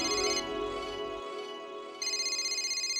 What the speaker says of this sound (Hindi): पोपटलाल का फोन आ भी गया।